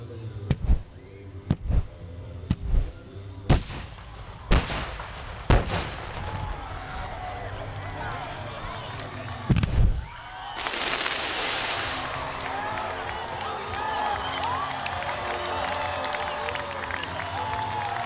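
A fireworks show bursts overhead, with a rapid sequence of about eight sharp booms, then a louder blast followed by crackling and a crowd cheering and chattering.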